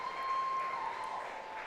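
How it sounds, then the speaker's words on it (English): Crowd applauding a successful 180-kilo final deadlift at a powerlifting state championship, a steady broad wash of clapping sustained throughout at moderate loudness. "Hear the crowd solidly behind her."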